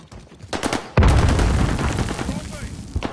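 In a Call of Duty Warzone match, a heavy grenade blast erupts loudly and rumbles on, mixed with bursts of gunfire, while a voice speaks briefly before the explosion.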